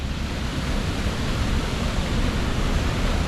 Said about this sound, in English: here, this waterfall, oh my word, this is going to be a lot better than it was recently